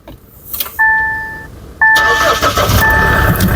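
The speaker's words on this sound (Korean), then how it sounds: "쌍용 렉스턴 차량의 엔진답게 일발 시동 정말 깨끗하게 걸리고요" A SsangYong Rexton Sports pickup converted into a camper with a pop-up tent, 94,612 km on the odometer. Two chimes sound, then the engine fires at once with a loud crank and settles into a steady idle under a speaking voice.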